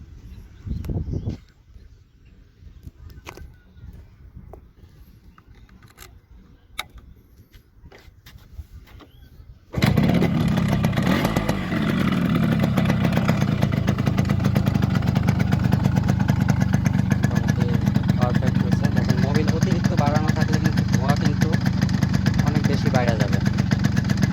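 A Yamaha RX motorcycle with a freshly tuned carburetor starts after about ten seconds of quiet handling noise and a voice, then idles loud and close with a steady buzzing two-stroke burble.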